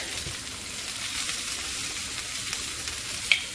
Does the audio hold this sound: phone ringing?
no